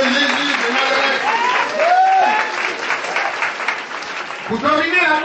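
A church congregation applauds and cheers for Jesus during a prosperity sermon. The clapping is dense and continuous, with a preacher's amplified voice riding over the crowd noise throughout.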